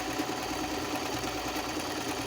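A home sewing machine runs a straight stitch in cream thread, giving a continuous close-up motor whir with a fast even mechanical chatter that holds steady throughout.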